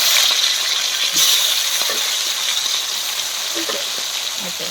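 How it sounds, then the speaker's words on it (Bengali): Steady, close sizzling of rohu fish frying in hot oil, a dense crackling hiss running throughout with a few faint clinks. "মাছগুলো ভালো করে একটু কড়া কড়া করে ভেজে নেবো"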